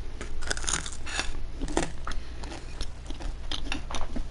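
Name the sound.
crunching while eating homemade pizza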